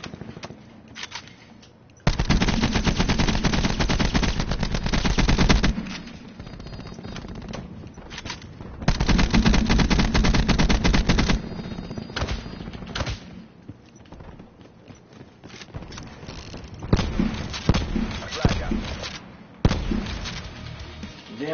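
Bursts of automatic gunfire from a PS4 video game, long loud rattling volleys separated by quieter stretches of scattered shots and impacts.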